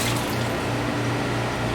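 Excess water pours and drains off plastic wrap pressed into a container, a steady close splashing trickle with no voices.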